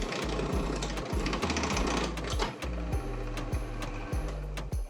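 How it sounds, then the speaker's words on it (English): Mechanical drilling with a repeating knocking rhythm, a motor droning beneath regular thuds and grinding, close and steady throughout. "I had to use the drill press to drill holes"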